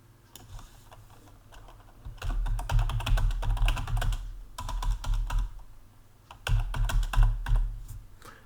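Rapid typing on a computer keyboard, close and fairly soft, coming in bursts of quick clicking with short pauses between them, no talking.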